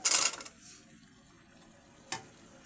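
Cut, washed potatoes hit the oil where rui fish is frying, giving a sharp hiss burst that quickly fades, then a quiet lull and a second brief sizzle.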